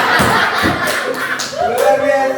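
A group performs the rhythmic 'tepuk wow' clap at a school teachers' gathering, several sharp claps in a quick pattern mixed with shuffling and thuds, with voices chanting along.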